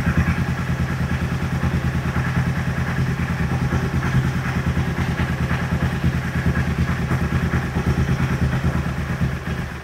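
Close-up Aprilia Tuono motorcycle engine with desynchronized throttle bodies idling with a steady, rough, pulsing rhythm that slowly sags and falters, no voices.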